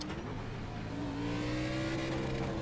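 A race car engine in the iRacing video game revs up in second gear at the start, its droning pitch climbing steadily and loud throughout.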